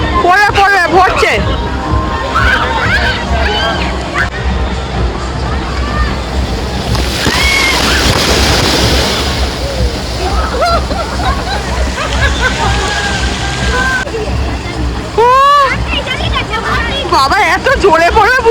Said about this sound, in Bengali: ওই বালতিটা ভরলে জলটা পড়বে, পড়বে পড়বে, ভরছে।